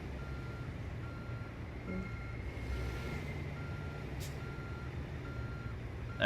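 Reversing beeps from a truck in American Truck Simulator, a steady repeating electronic tone over a low diesel engine rumble, with a brief air-brake hiss near the end, no talking.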